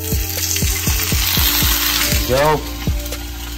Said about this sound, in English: lay it on these fillets and get ready for the sizzle